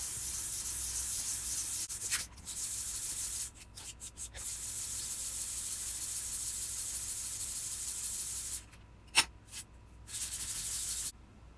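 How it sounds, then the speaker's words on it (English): Wood sanded by hand with 400 grit wet or dry sandpaper and mineral oil, a steady close hissing rub in long sustained strokes broken by brief pauses and small knocks. "400 grit wet or dry sandpaper. The mineral oil helps the pitch not clog the sandpaper."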